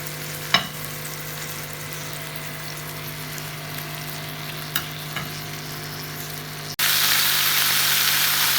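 Minced-meat kebab tikkis with onion fry in a pan over a medium flame, giving a steady broadband sizzle with a few faint clicks. Near the end the sizzle swells louder and brighter.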